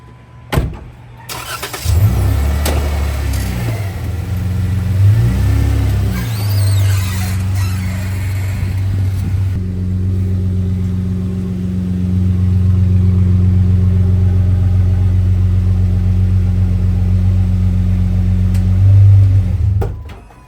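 A Jeep Wrangler JK engine starts and idles steadily up close, with a low rumbling drone and brief revs as it backs into a garage.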